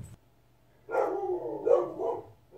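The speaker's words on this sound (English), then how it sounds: "And now my dogs are barking." Dogs bark indoors at a moderate distance, a short run of several barks and yips close together after a brief quiet moment.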